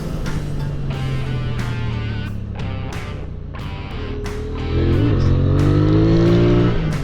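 A QJ Motor SRV 550 motorcycle engine revs and accelerates steadily up close, its note climbing in pitch and growing louder toward the end of the run.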